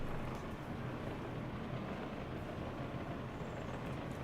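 A train rolls along in the video game Workers & Resources: Soviet Republic, a steady, muffled rumble that holds an even level throughout with no distinct clacks standing out.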